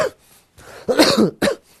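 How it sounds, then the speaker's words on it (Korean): Someone nearby coughs loudly two or three times, with a throat-clearing rasp between the bursts. "너무 열심히 하다 보니까 기침이 좀 나왔네요."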